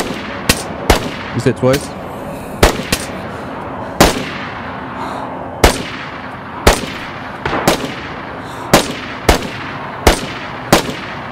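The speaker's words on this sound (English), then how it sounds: "Someone else is shooting at us." Gunfire in the winter map of the game DayZ: a dozen loud, sharp single shots spaced irregularly over several seconds, with a short rapid burst early on and a voice speaking briefly.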